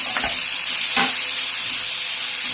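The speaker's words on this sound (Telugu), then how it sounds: "తాలింపు గింజలు, జీలకర్ర ఇప్పుడు వేసుకుందాం" Tempering seeds and cumin fry in hot oil for a cauliflower pachadi, a steady close sizzle with a couple of brief stirring scrapes.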